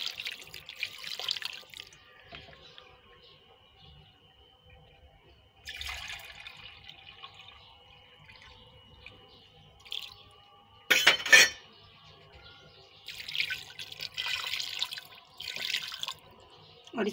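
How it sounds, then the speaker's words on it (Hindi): Water is poured from a glass into a cooking pot on a stove in a home kitchen, several short splashing pours separated by quiet gaps, with faint clinks of utensils. "बस इसमें हम दो गिलास पानी शामिल करेंगे।"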